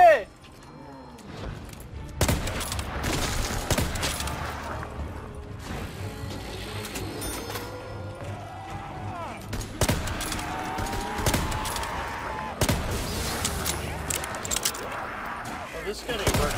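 A big gun firing in a Black Ops III mod map, repeated bursts of rapid mechanical gunfire and clanking, loud and close, with people talking throughout.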